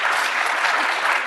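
An audience at a SharePoint feedback session gives a round of applause, a brief, continuous burst of many hands clapping at an even, fairly loud level.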